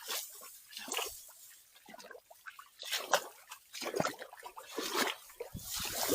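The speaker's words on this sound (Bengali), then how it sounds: "আপনারা হয়তো পানির কলকল শব্দ শুনতে পাচ্ছেন।" Water trickling and gurgling through a flooded rice paddy, a steady soft watery babble with faint splashes, heard close by amid outdoor ambience.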